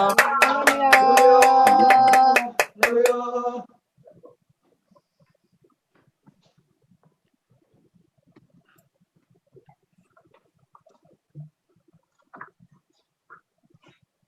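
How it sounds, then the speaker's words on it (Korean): Welcoming applause from a church gathering greets a pastor coming forward, a few seconds of brisk claps mixed with loud tonal sound, then cutting off to near silence with faint scattered noises. "우리 목사님 나오실 때 할렐루야로 우리 힘차게 환영의 박수 올리겠습니다"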